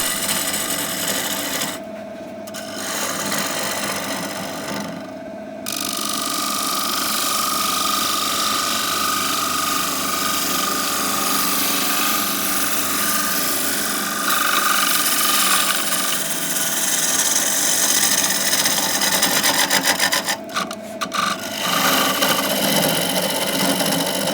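Gouge cutting a spinning wooden bowl on a lathe, a steady rough scraping hiss over the motor's hum that lasts most of the stretch, broken by brief pauses when the tool lifts away.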